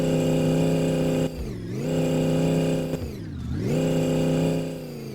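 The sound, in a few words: supercharged V8 car engine revving on dyno, video game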